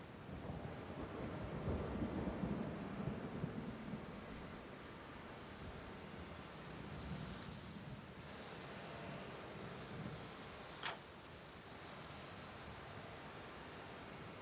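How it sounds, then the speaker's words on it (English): Heavy rain pours steadily outdoors beside a giant abandoned red brick church in Gary, Indiana, with low rumbles of thunder rolling underneath and one brief sharp crack near the end. "you are outside, and it is pouring rain"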